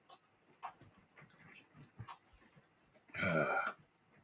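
A dog pants quietly in short, soft breathy bursts, ending with a louder, rougher huff near the end.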